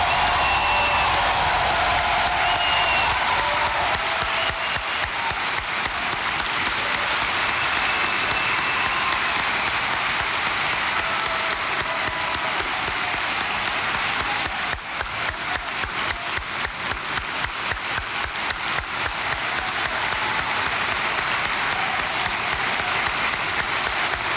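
A rally crowd at High Point University in High Point, NC applauds for law enforcement, with sustained loud clapping and cheering filling the whole stretch and growing denser partway through.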